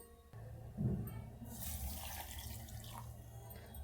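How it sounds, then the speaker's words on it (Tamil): Water poured into a blender jar while making sathukodi juice in a home kitchen, a steady splashing pour lasting a few seconds at moderate level, no talking. "3/4 டம்ளர் தண்ணி சேர்த்துருக்கேன்"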